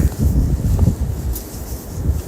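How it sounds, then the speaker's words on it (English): Strong, continuous windstorm winds in Oswego roar as a steady low rumble with buffeting gusts against the microphone, heard alone without any voices. "the winds we were seeing today, it was continuous, and it didn't stop"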